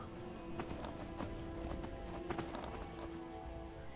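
Horse hooves clip-clop in a quick, steady rhythm while riding in the video game Skyrim, close and fairly quiet, with occasional sharper hoof strikes and no talk.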